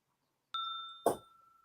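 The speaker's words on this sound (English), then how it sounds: "I love that little bell." A single bright ding from a little bell sound effect rings out and sustains, followed a half-second later by a brief clattering knock as the tone fades, with no voices present.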